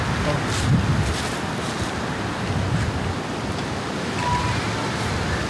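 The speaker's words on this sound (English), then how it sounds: "The branches are whistling." Wind blows through tree branches in the woods, a steady, close rushing with gentle swells that fills the whole stretch.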